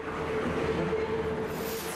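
A Hamburg U-Bahn train running along the harbour makes a steady, loud rolling rumble with a faint sustained whine through it, heard up close and without any voices.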